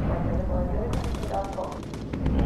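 Rapid bursts of anti-aircraft flak fire in the video game Bomber Crew crackle in quick succession under a rumbling background, some chatter mixed in.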